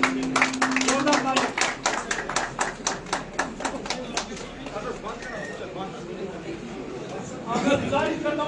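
Loud clapping from an audience at a traders federation event in Baramulla, rising and fading over several seconds, with crowd chatter and talk mixed in and a brief tonal hum near the start.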